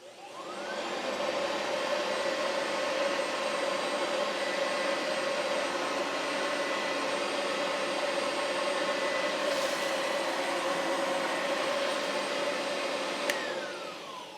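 An Oreck Discover vacuum cleaner runs on a hard floor while picking up breakfast cereal and animal hair, a loud steady motor whine that starts up, holds for over ten seconds, then shuts down, with no voices.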